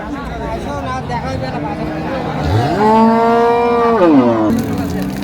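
A dairy cow lets out a loud, drawn-out moo nearby at a cattle market, rising then falling, with murmuring voices in the background.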